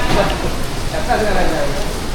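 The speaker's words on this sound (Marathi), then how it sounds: "बारीक बारीक पावसाळा सुरुवात झाले" Light rain falls steadily during monsoon travel in misty hills, a dense, close patter of drops with no pauses, while a person talks beneath it.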